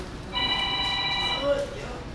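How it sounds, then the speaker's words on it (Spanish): A telephone rings once with a steady electronic tone lasting about a second, heard indoors amid faint background noise. "A ver si para el teléfono."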